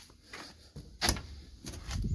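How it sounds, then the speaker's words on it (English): Back doors of a Nissan GQ Patrol being worked open during a rebuild: a few short mechanical clunks and creaks, one sharper knock near the middle and scraping toward the end, close and fairly quiet. "We've got both back doors opening now."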